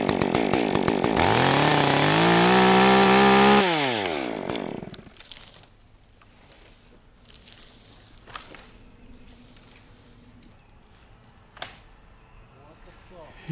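A Stihl 270 chainsaw with a freshly sharpened chain revs loud and close while cutting trees for fence bracing, then drops off into quieter outdoor rustling, footsteps and scattered knocks, with voices talking nearby.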